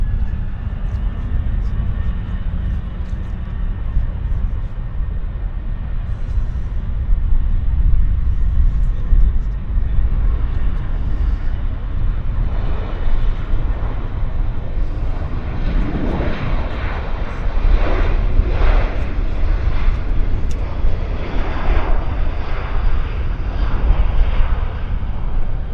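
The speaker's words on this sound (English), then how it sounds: "It's the Westjet 166, and it's rolling right away." A WestJet airliner departing Vancouver on its takeoff roll, a steady low engine roar that swells and grows louder in pulses toward the end, heard alone without talk.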